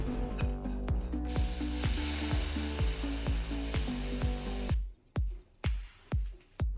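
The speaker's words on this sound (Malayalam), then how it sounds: "എല്ലാത്തിൻ്റെയും പച്ചമണം മാറിയതിന് ശേഷം പുളിവെള്ളം ചേർത്ത് കൊടുക്കാം." Tamarind water poured onto spices frying in hot oil for a ginger-tamarind relish with dates and ghee, bursting into loud continuous sizzling with rhythmic spoon taps against the pan, then settling into quieter bubbling with repeated knocks.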